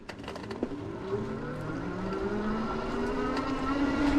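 Electric Bike Company Model S cruiser with a 1250-watt hub motor accelerating at full throttle, a steady rising electric whine that climbs in pitch over wind rumble, moderately loud with no talking.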